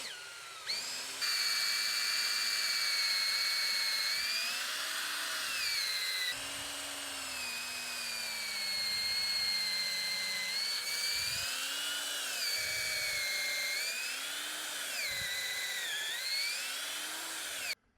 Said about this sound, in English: now we're gonna drill our holes